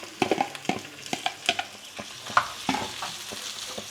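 Slimy-cleaned okra tipped into a hot pan for a Kerala thoran and stirred, giving repeated scraping stir strokes over a steady close sizzle of frying.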